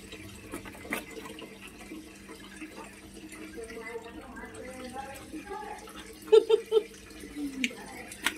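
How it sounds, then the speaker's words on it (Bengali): Tap water runs steadily while a woman washes freshly cut fish at home. The flow is soft and continuous, with a few brief splashes and clatters near the end, and a voice talks over it now and then. "এরপর আমার মা ধুয়ে নেবে মাছ।"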